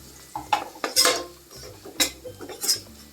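Ground turmeric, coriander and garam masala sautéed in a pan, heard as a few scattered metallic scrapes and clinks of a spoon against the pan with a faint sizzle underneath, close and fairly quiet.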